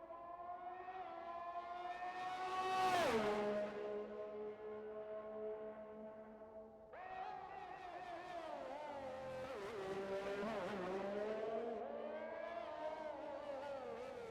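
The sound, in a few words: race car driving a lap in a racing video game at Baku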